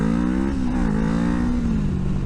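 A Kawasaki ER-6f sportbike accelerates hard from 0 to 50, its engine note climbing steadily and loudly close by in one continuous pull, with no pause for gear changes.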